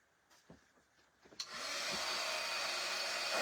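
A dryer blasts steadily over a freshly made craft project, switching on abruptly after a few soft handling clicks and holding a loud, continuous rushing hiss to the end.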